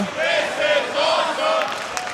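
At a live professional wrestling show, an arena crowd cheers and chants loudly in rhythmic waves, a dense roar of many voices filling the hall.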